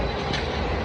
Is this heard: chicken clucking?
no